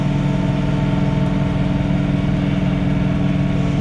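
Steady close drone of a John Deere 3046R cab tractor engine running during night snow blowing, a constant mid-pitched hum with no voices.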